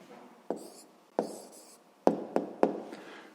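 A pen scratches an answer onto paper in several short strokes, each opening with a sharp tap on the page before a faint scratching tail, all heard up close.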